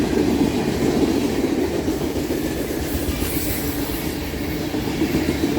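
A freight train of tank cars rolls past close by, a continuous loud rumble of wheels on rails with faint clickety-clack and no pauses.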